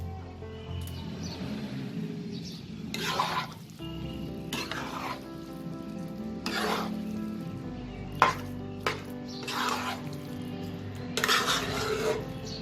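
A spoon scrapes and knocks around a pot of bottle gourd curry with bori and coriander leaves, giving repeated metallic clinks and scrapes over a soft, low sizzle, close and moderately quiet.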